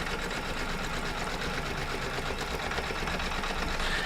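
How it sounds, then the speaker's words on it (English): An embroidery machine stitches a dense design at 500 stitches per minute, producing a steady, rapid mechanical chatter and hum that holds constant, close and alone. "The machine is going at 500 stitches per minute."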